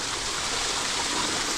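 Water rushes steadily over a waterfall-like beaver trap set in a stream in Iowa, a loud, even broadband roar heard up close with no other sounds.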